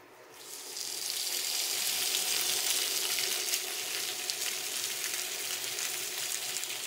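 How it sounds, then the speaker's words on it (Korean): Kimchi hits hot bacon fat in a pan and bursts into a loud, steady sizzle that holds close and even for several seconds, with no talk. "이제 김치를 또 볶아줘야 돼요 이 기름, 베이컨 기름에 원래 김치를 볶아주면 아주 맛있기 때문에"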